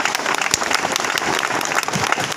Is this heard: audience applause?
yes